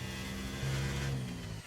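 Engine of an F1 race car in the F1 2023 video game at Austria, a steady droning tone that rises in pitch partway through as the car is pushed, continuous and fairly loud with no talk.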